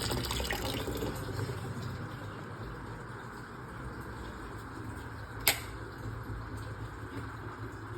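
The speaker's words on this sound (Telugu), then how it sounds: "సో వాటర్ ఫిల్ చేసి పెట్టుకుంటున్నాను" A steady, low rush of water running from a tap into a container, continuous throughout, with one brief sharp knock partway through.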